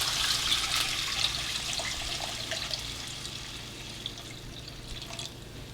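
Water pouring steadily into a cooking pot, a continuous bright splashing trickle with faint drips, close and moderately loud, no talk.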